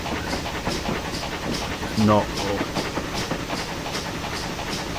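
A steam train running through a 40 limit, its regular rhythmic beats and rail noise steady underneath as someone talks briefly over it.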